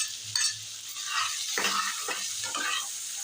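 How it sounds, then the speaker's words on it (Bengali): Chopped onion fries in oil with whole fennel, cumin and a bay leaf for a fish egg curry, a steady close hiss with soft scraping stirs and a few light clinks throughout. "পেঁয়াজটা একটু লাল করে ভেজে নেবো"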